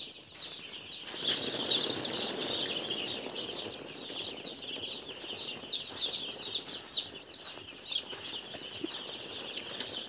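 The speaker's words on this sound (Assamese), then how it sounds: "এইখিনি পোৱালিবোৰ এতিয়া উঠাই দিছোঁ কেনেকৈ গুচি গৈছেগৈ" Young chicks scatter with a flurry of flapping wings and bright, high peeping, close by and continuing throughout.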